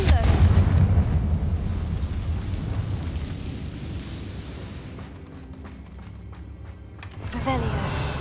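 Confringo spell explosion in Hogwarts Legacy, a loud booming blast up front that rumbles and decays over several seconds, followed by scattered crackles and a smaller burst near the end, with speech mixed in.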